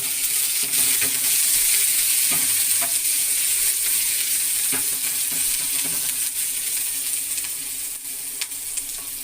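Garlic frying in a pan for sambar, a loud continuous close-up sizzle that stays even throughout, with faint scattered crackles and a slight easing toward the end.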